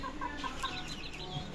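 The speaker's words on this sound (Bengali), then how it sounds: "প্রথম মুরগির বাচ্চা, দেখেন মাশাআল্লাহ অনেক সুন্দর," Chickens and young chicks of a Japanese bantam type kept at a home, soft close clucks and faint chirps over a steady background hum, brief and without talk.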